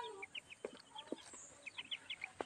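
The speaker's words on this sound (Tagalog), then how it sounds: "ito naman yung ating black astrolope na manok" Black Australorp chickens clucking softly in a faint, quiet scene, with scattered short clucks and murmurs in an irregular rhythm at moderate distance and no one speaking.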